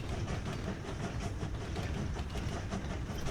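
Trains in the Train Valley video game roll steadily along their tracks with a soft, continuous rumble and clickety-clack, low and even throughout with no voices.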